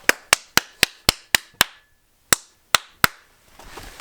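Single sharp hand claps in a newly insulated garage with wood cladding: about seven evenly spaced claps, a short pause, then four more, each crisp and close with a brief ringing tail, followed by faint low rustling.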